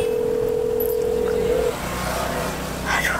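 A steady electronic telephone dialing tone sounds loudly, then cuts off, followed by a brief beep and low background hum.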